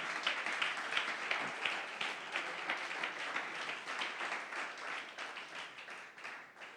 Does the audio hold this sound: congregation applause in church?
yes